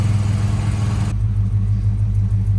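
A Dodge Monaco engine running rough while being driven, a loud low rumble that drops in brightness partway through.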